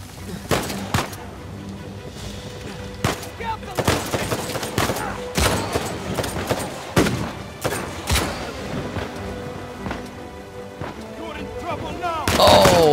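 Grenade explosions and gunfire in Uncharted 4: A Thief's End, chapter 17, come as scattered close shots and heavy blasts. The bursts are uneven, with a loud blast near the end and sporadic voices mixed underneath.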